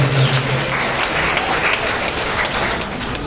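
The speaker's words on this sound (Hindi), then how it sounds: "जोरदार तालियों से आभार।" A crowd at a political gathering in Sujangarh breaks into loud, continuous applause, a thick wash of clapping holding steady from start to finish with no voices over it.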